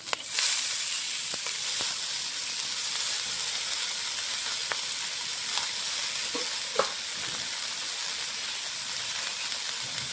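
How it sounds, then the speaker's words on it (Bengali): Chili and garlic frying in a pan give a continuous, even sizzle and hiss that lasts the whole time, with a few faint ticks and stirring knocks and no voices. "হালকা করে লঙ্কা রসুনটা ভেজে দিয়ে শাকটা দিয়ে দেবো।"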